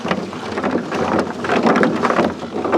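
Drano drain cleaner fizzing and bubbling on car lug nuts, a steady close hiss with dense crackling pops throughout, like light rain.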